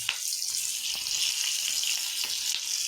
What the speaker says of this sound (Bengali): এবার আমি এই পেঁয়াজটা দিয়ে দেবো এই ক্যাপসিকামটাও দিয়ে দেবো